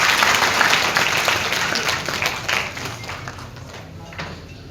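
A crowd at a large Hindu gathering applauds young people, broad continuous clapping that starts strong and gradually thins and fades.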